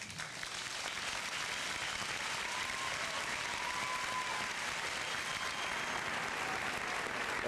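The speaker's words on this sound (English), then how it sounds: "Let's give them a round of applause." A crowd applauds at a high school senior assembly, sustained dense clapping from a large audience heard at a distance, steady and even from start to finish.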